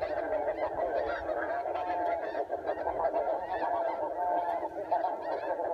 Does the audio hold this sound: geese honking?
yes